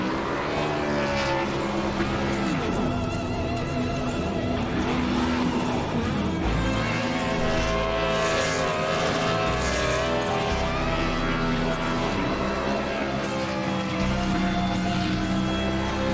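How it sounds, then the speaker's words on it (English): A No. 87 NASCAR Craftsman Truck does burnouts at the start-finish line at Daytona in iRacing, its engine roaring continuously with rising and falling revs and tonal whine, loud and sustained. "now will be the 87 doing the burnouts at the start-finish line"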